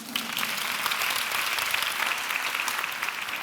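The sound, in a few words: audience applause for a question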